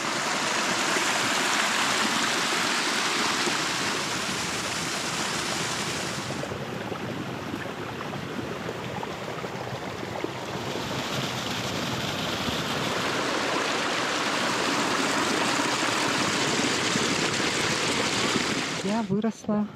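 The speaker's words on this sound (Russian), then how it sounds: "Первый наш водопад на сегодня" Waterfall on the Yelanka cliffs in Yakutia, a steady broad rushing roar of falling water heard close and continuous, with a brief faint voice near the end.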